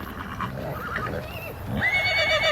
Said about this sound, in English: I've probably been breeding horses for about 6 years